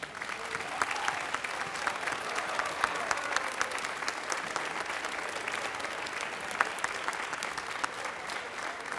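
A crowd applauds at the close of an evening speech competition, steady dense clapping from many hands that holds at an even level throughout with no voices rising above it.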